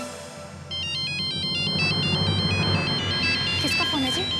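A mobile phone ringtone plays a repeating electronic melody indoors, fairly loud and steady, over a low background hum during a family drama scene.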